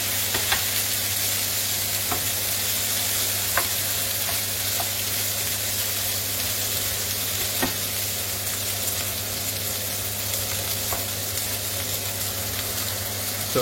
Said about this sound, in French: on remue un petit peu, oui.